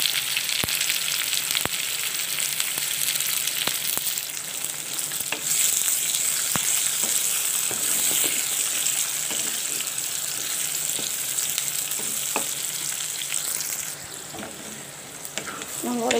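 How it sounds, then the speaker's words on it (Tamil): Onions added to softened brinjal sizzle and crackle steadily in a pan of hot oil, a close, continuous fry with occasional stirring clicks and scrapes, no talking. "இப்போ நம்ம வந்து வெங்காயம் போடுறோம்."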